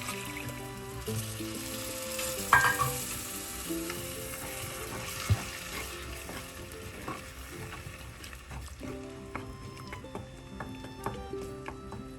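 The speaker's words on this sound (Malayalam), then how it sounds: "എല്ലാം കൂടെ ഇളക്കി ഒരു മീഡിയം ഫ്ലെയിമിൽ തിള വരട്ടെ" Sardine pepper curry in a pan is stirred after tamarind water goes in, with a steady sizzle and bubbling plus repeated scraping and clinks of the spoon against the pan, fairly close and without talk.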